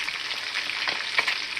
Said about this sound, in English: this is the second fish I'm frying